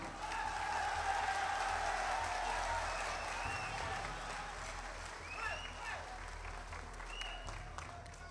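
An audience applauds after a stage performance in Malaysia. Dense clapping starts loud and gradually thins, with voices audible over it toward the end.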